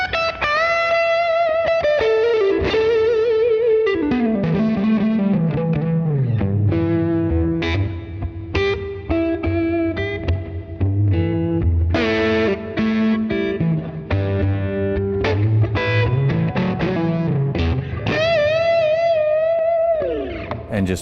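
Electric guitar played through a Universal Audio OX Amp Top Box with delay and plate reverb: distorted, sustained notes and riffs with echoing tails, loud and continuous with no talk.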